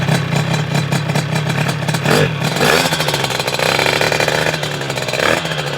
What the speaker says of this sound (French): Tu veux mettre ton premier coup de kick avec ta nouvelle moto?